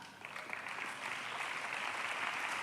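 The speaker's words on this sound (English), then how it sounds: "Please keep clapping, please keep." Steady applause from a conference audience welcoming a speaker at a career day event, a dense even clapping that holds at a constant level throughout with no voices on top.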